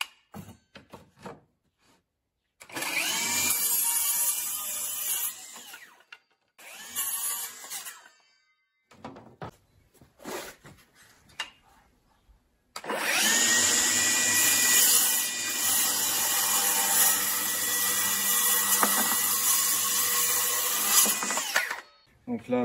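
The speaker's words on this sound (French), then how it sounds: "je vais d'abord vous couper avec la règle du contreplaqué de 22 mm et ensuite je vais vous couper du chêne massif" A Milwaukee M18 FUEL cordless circular saw rips through 22 mm plywood along a guide rail, then through solid oak: two short whining cuts followed by a long, loud sustained cut, with pauses of quiet handling between.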